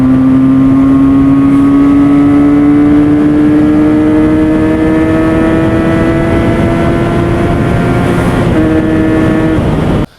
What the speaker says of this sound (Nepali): सुपर बाइक कुदाएको जस्तै साउन्ड आउँछ